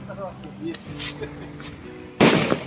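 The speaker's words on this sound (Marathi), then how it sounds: "रस्सीला एक आग लावून फेकलेलं आहे आणि त्याला पन्नास फटाके आहेत ते आता वाजत राहणार" A string of fifty firecrackers tied to a rope is lit and thrown during a Diwali celebration at an army camp in Indore. A few scattered pops sound beneath people talking, then one sharp, loud bang near the end.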